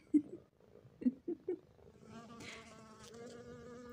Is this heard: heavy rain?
no